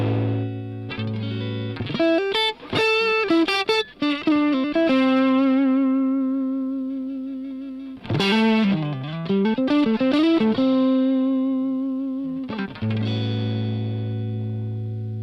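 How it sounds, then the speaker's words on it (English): An electric guitar plays loud and heavily distorted through a cranked Marshall amplifier, with quick picked runs, bends and long sustained notes that ring out between phrases. "this is a crank Marshall."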